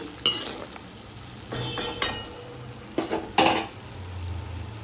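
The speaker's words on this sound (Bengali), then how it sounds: "জিরের গুঁড়োটা দিয়েও একটু নাড়িয়ে নিচ্ছি।" Cumin powder being stirred into a frying pan while cooking egg korma, with a few sharp spoon scrapes and clinks over a faint low sizzle and no talking.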